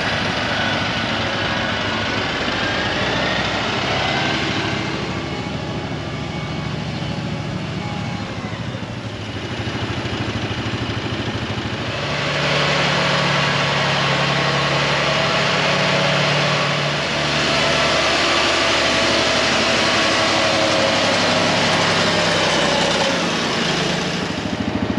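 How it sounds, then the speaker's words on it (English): A tractor engine runs steadily at close range while hauling bales out of a barn, a continuous low rumble that grows heavier and louder partway through, with no talk over it. "This tractor's definitely got a lot more power than the other one."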